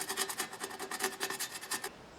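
A wire brush scrubs paint off metal pieces from a 1950s pantry cupboard in quick, rhythmic back-and-forth strokes, about a dozen close, faint scraping rasps before stopping.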